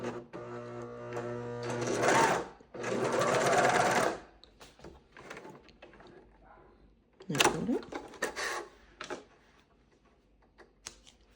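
A coverstitch sewing machine stitches knit bands in two loud close bursts of rapid whirring, followed by a shorter run and softer clicks and handling noises.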